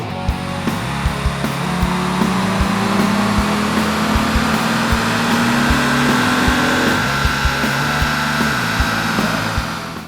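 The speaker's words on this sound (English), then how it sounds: "nitrous activation" On a dyno, a car engine with a Zex nitrous kit activated roars loudly and continuously, climbing steadily in pitch as it pulls through the run.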